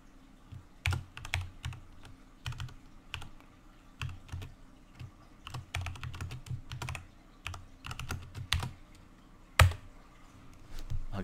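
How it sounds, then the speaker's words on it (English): Hard, uneven bursts of typing on a computer keyboard close to the microphone, clusters of heavy key strikes separated by short pauses, with one especially loud slam near the end. "You could probably hear me just slamming on my keys"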